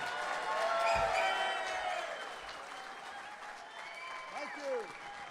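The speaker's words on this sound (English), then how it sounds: "let's get a big round of applause for the head coach of Carolina football, Larry Fedora" A crowd at a Carolina football signing day celebration applauds and cheers for the head coach; the clapping is loudest early, then fades beneath voices and some ringing electronic tones.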